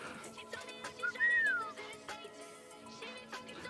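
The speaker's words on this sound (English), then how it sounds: "That was a whistle" A single human whistle, a woman's signalling call, slides up and then down once, clear but fairly soft against a quiet room with faint background sounds.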